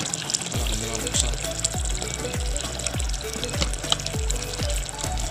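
Water from a faulty airpot that will not stop dispensing falls in a steady splashing stream, with a regular series of hollow low plops, roughly twice per second, under continuous bright spatter.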